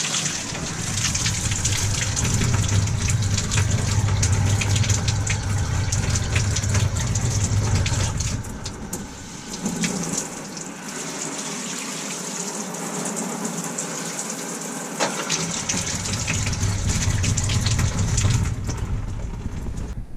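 Water gushes from the shower of a Flagstaff E-Pro E20BHS RV during de-winterizing, a loud steady hiss broken by a quieter stretch midway before the strong flow returns.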